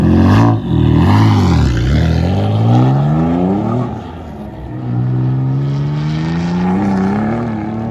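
A Mitsubishi 3000GT drift car with around 350 horsepower pulls hard, its engine climbing and dropping through loud revving sweeps with a brief lift in the middle, then a sustained rising pull, close and powerful.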